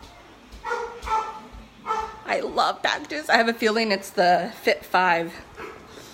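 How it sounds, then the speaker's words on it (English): Excited dogs bark and yip repeatedly at a ringing doorbell, loud and close, mixed in with someone talking throughout. "My dogs are going crazy because the doorbell rang."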